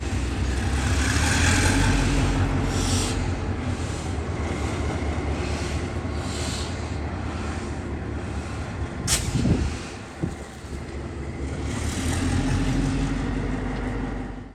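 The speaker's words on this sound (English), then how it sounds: "Just listen to that old engine roar." An old railway engine at the Illinois Railway Museum makes a steady rumbling roar that swells and fades over about fifteen seconds, with a sharp clank partway through, loud and close with no talk.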